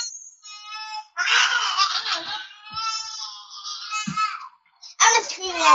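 An upset young girl, just woken, screams and wails loudly in long, high, piercing bursts separated by brief pauses, with an adult speaking softly underneath at moments.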